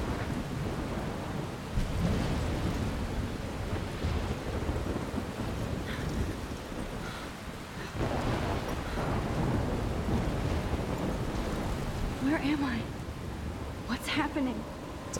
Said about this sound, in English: Thunderstorm, you should definitely get indoors.